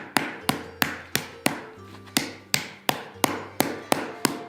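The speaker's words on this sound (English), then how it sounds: "hammering into the sandbag" A ball hammer strikes a brass sheet resting on a sandbag about a dozen times at a steady rhythm, each close, sharp blow ringing briefly with a metallic tone.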